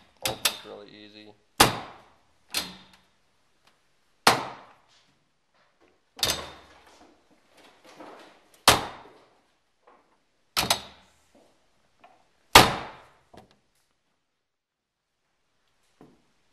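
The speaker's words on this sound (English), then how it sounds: "This is our new built aluminum slam latch. It shuts really easy, opens really easy." Billet aluminum slam latch on a RZR door, shut and opened repeatedly: about eight sharp, close metallic slams and clacks spaced a second or two apart, with short rattles and quiet gaps between them.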